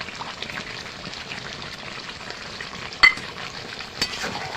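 Chicken kosha being stirred in a frying pan, a steady low sizzle with soft scraping and a couple of sharper utensil clinks near the end, no talking.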